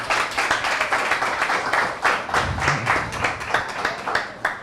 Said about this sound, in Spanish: aplaudamos por favor